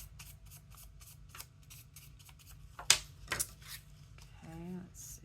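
Scissors cut through a paint card with quiet rhythmic snips and a few sharper clicks up close. A brief voice is heard near the end.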